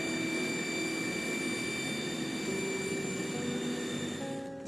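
A jet airliner taxis out on an airport surface with a steady, continuous engine whine and roar and faint high tones above it, holding level throughout.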